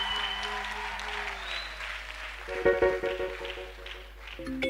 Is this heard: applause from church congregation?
yes